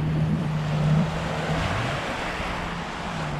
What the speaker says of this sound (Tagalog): So yan, maalon pa rin.